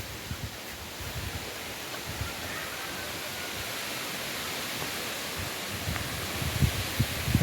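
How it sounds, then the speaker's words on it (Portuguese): Strong, gusty wind blows across a vegetable garden, a continuous broadband roar with rustling and buffeting thumps, swelling slightly louder toward the end. "Eu acredito que hoje vai ficar o dia inteiro assim com esse vento louco."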